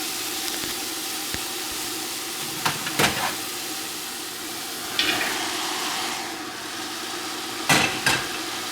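Browned beef cubes with carrots, celery and onion are stirred in a pot for beef tomato soup, giving a steady sizzle with a few sharper scraping bursts of the spoon.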